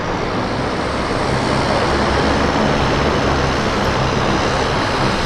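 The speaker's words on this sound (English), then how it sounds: "The Caravan is the noisiest airplane here." A loud, steady roar of a Cessna Caravan propeller airplane engine running close by at an airport, constant and droning with no break, no voices.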